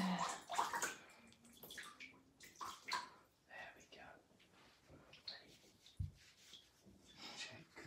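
A Labrador puppy is washed in a tub, with splashing, pouring and rubbing water sounds coming close and irregular as the thick coat is scrubbed, while people talk softly over the washing.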